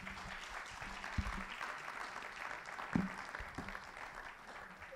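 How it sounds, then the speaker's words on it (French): Audience applause for three speakers at a conference, a faint spread of clapping across the room with a few sharper nearby claps and low murmuring. "Je vais demander à ceux qui sont là d'applaudir les trois intervenants."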